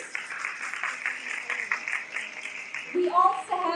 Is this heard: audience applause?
yes